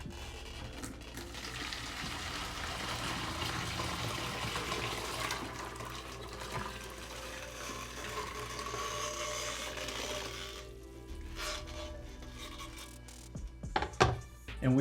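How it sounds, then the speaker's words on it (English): Sugar water poured from a container into a reusable bag of hibiscus flowers for wine, a steady close splashing pour that runs for most of the clip before tapering off into a few handling knocks. "now we're going to pour our sugar water in on top"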